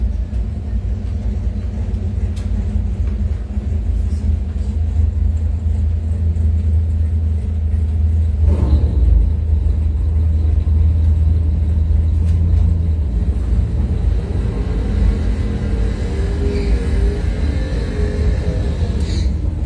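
A Pontiac Firebird drag race car idles at the line in a round of drag racing, its loud, steady low rumble continuous throughout with slight surges, and no voices clearly heard over it.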